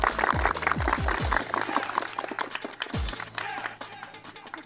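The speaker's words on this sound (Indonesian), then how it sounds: "Tepuk tangan adik-adik." Students clap their hands at an outdoor health walk event for a martial arts school, a loud rattling patter of many hands with a few low thuds mixed in, tapering off near the end.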